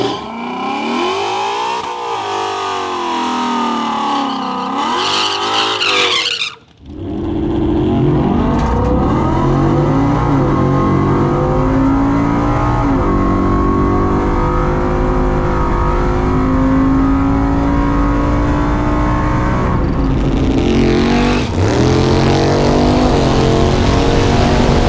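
A nitrous drag race car, Project Chucky, idles and revs loudly, then after a short silent break launches with a sustained roaring engine note that climbs steadily, loud and close.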